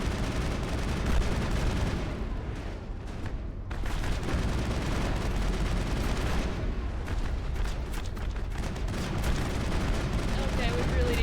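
Enemy gunfire in the Mass Effect video game: dense, continuous volleys of rapid shots and booms under a voice talking, sustained throughout with brief lulls.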